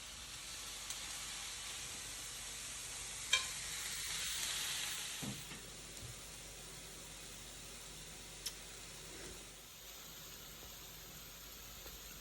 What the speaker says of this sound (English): give you that nice sizzling sound